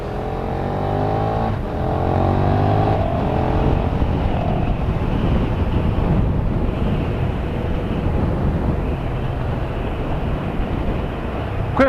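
A KTM 1290 Super Duke GT motorcycle pulls hard through its gears with rapid quickshifter changes, loud and close, its engine note rising and dropping in steps under steady wind rush.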